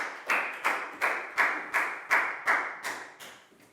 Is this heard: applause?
yes